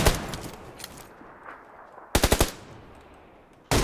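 Bursts of automatic gunfire in the battle royale game PUBG Lite: a steady rattle early on, then a sharp rapid volley of several close, loud shots, and a final loud burst at the end.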